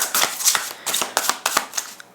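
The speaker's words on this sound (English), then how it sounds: "So let me shuffle the oracle cards and wrap this up." Oracle cards being shuffled by hand, a rapid run of close, crisp riffling flutters and soft slaps repeating in quick bursts, with no talking.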